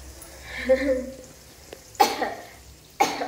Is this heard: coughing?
yes